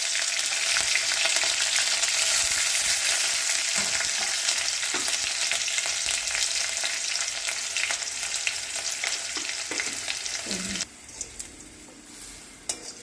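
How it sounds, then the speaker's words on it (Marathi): Hot tempering oil is poured over steamed dhokla, making a loud, close, continuous sizzle that stops abruptly near the end, followed by a few soft clinks. "त्यावर छानपैकी फोडणीचं तेल टाकण्यात येत आहे"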